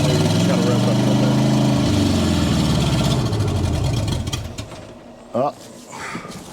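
A ramp truck engine is revved a few times, loud rising and falling pulses up close that fade out, followed by a brief sharp knock and quieter background noise; a bird coos faintly.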